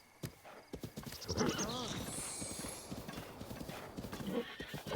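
Horse hooves clip-clopping in Zelda: Breath of the Wild, a steady galloping patter of hoofbeats with a neigh partway through, under a player's voice repeatedly calling out to the horse.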